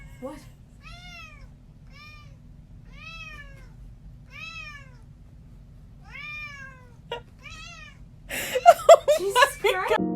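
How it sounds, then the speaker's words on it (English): A cat with a toy stuck to its paw meows repeatedly, about seven clear, evenly spaced cries over a low hum, then loud clattering and a burst of mixed noise at the end. "This cat was playing with a toy and it got stuck to its paw."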